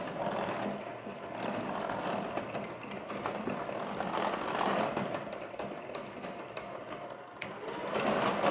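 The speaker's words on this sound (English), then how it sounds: "I'm just doing it with an electric mixer, a little bit quicker" An electric hand mixer whirs steadily as it beats an egg into cake batter, a continuous buzzing motor hum with a light rattling texture, moderately quiet and without talk.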